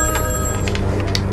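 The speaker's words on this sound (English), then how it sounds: "the phone rings." A telephone ringing in a hotel room, a steady electronic trill that stays loud and close for its whole length, with no voices over it.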